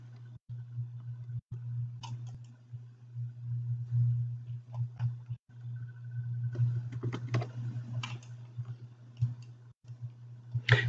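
Typing on a computer keyboard, a scattered run of soft clicks and taps close by over a steady low electrical hum, with a few short pauses.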